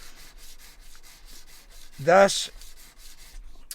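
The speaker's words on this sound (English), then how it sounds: "So I'll sand it with the sandpaper all in one direction until it looks to be pretty smooth" Sandpaper rubs across a silver pendant in soft, faint repeated strokes, briefly interrupted by a short spoken word partway through.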